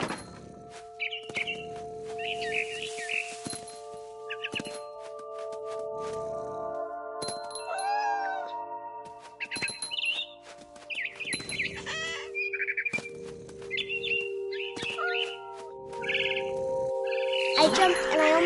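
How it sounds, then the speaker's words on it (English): A barn swallow chirps in short bright bursts outside a window in the game What Remains of Edith Finch, scattered calls over a steady tonal game soundtrack, fairly close and clear. "Then I heard chirping outside my window. It was a barn swallow going back to her nest."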